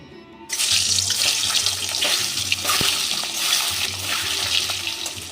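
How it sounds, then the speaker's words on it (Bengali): A duck egg frying in hot mustard oil, a steady broadband sizzle starting abruptly after a brief quiet moment and continuing loud and close throughout, with a low hum underneath and no talking. "এবার এই ডিমটা আমি ভেজে নেব।"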